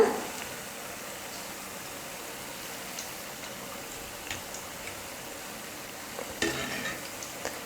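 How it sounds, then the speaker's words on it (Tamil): Rice flour bonda batter fries in oil, giving a faint, even hiss, while a ladle stirs it gently with a few soft taps and clicks near the end. "மாவை எண்ணெயில் போட்டு 1 நிமிஷம் கழித்து கரண்டி வச்சு லைட்டாக கலந்து கொடுத்துக்கோங்க."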